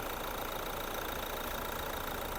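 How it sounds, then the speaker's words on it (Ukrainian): A 1.6-litre car engine idles quietly and steadily with the hood open, giving a constant low hum with a faint mechanical tick and no voices. "Моторчик просто шепче."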